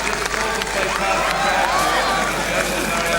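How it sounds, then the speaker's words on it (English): A Cork crowd applauding the yellow jersey rider at the 1988 Tour of Ireland cycling race, a steady wash of clapping and cheers at moderate distance, with a voice talking over it throughout. "takes the applause of the Cork crowd"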